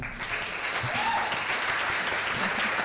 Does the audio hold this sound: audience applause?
yes